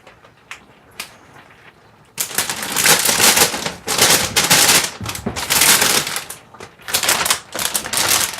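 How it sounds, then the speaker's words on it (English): Plastic bag holding a pound of spinach being handled in a kitchen: a few soft taps, then loud, close, sharp crinkling in repeated bursts for about six seconds, with no talking. "Sorry for the noise on the bag."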